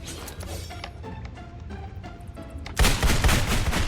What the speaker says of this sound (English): Gun sounds in the distance don't seem too promising.